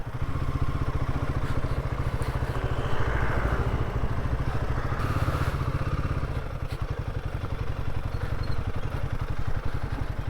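Motorcycle riding along a narrow trail in Bardiya National Park, Nepal: a close, loud, chugging engine with a rapid even pulse and occasional clatter and crackle, steady throughout with no talking.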